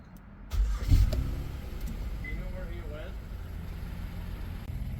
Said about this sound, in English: now you see it idling normally again.